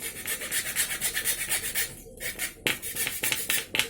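Small saw or file cutting string notches into a wooden diamond kite spar, a rapid rhythmic rasping of back-and-forth strokes, close and fairly loud, with a short pause midway before the scraping resumes.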